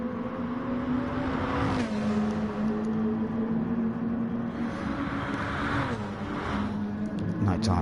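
GR3-class race car in an iRacing multi-class sim race, a steady engine drone with shifting pitch as it exits the final corner onto the start-finish straight, heard under continuous commentary.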